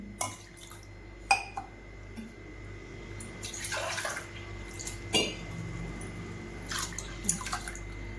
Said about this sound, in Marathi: आता आपण याच्यात पाणी घालणार आहे, तांदूळ बुडेल एवढं चांगलं पाणी घालायचं।